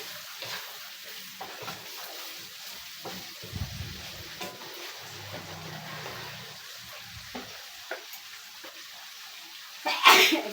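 A single sharp sneeze bursts out loudly near the end, after a long stretch of soft sizzling and stirring from home cooking, the sneeze set off by black pepper.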